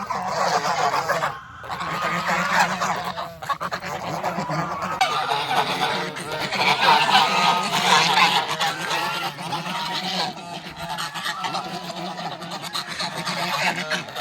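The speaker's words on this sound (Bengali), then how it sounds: "গেলেই তেড়ে আসবে হাঁসগুলো মোটামুটি" Ducks or geese honk loudly and almost continuously beside a village pond at Kaikhali in the Sundarbans, a busy cackling chorus that fills the whole stretch with only a brief dip early on.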